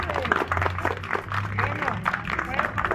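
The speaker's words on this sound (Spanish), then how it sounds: "Denle un aplauso, denle un aplauso." Audience applause at a cosplay contest in a bazaar hall, moderate clapping spread across the crowd with voices and a low hum underneath.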